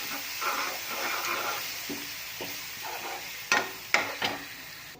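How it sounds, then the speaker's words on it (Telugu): Tamarind leaf chutney is mixed in a pan with oil, making a soft continuous sizzle with light scraping stirs and a few louder clanks of the spoon near the end. "పచ్చడి మొత్తం అంతా దీంట్లోకి కూర్చేసుకొని బాగా మిక్స్ చేసుకోండి"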